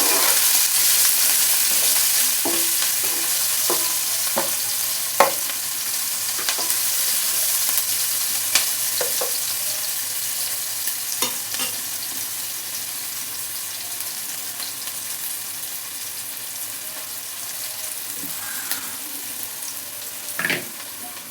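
Onions frying in a pan with salt for mint rice, a steady close sizzle running the whole time, broken by repeated clinks and scrapes of a spoon stirring against the pan.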